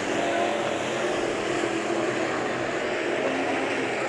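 Race cars battle during heat races at Bakersfield Speedway, an oval track, making a constant, broad engine roar from a pack of cars that stays steady and fairly distant throughout.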